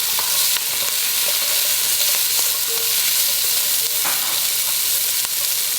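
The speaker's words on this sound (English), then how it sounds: "I'm gonna saute those for just a second, and then a half cup of celery" Carrots and celery sautéing in a pan for a short rib stew base, a steady loud sizzle and fry hiss running throughout with faint stirring scrapes and taps, no voices.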